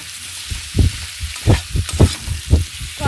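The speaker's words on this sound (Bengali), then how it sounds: "নুন দিয়ে আরও 2 মিনিট মতন আমি কুমড়ো আর আলুটাকে কষিয়ে নেব।" Pumpkin and potato pieces sautéing with salt and turmeric in a pan, a soft sizzle broken by several dull stirring thumps and scrapes at an uneven rhythm, near and without speech.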